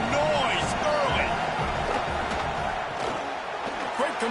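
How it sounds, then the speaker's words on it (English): Stadium crowd roaring in the College Football 27 video game, a dense, loud wall of cheering and noise throughout, with faint voices mixed in. "This crowd bringing the energy and noise early"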